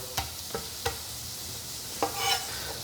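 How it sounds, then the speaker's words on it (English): Onion cooking in a pot sizzles steadily, broken by several sharp scraping stirs of a utensil against the pot. "And then I'm gonna add the onion right to the pot."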